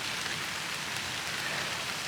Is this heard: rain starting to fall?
yes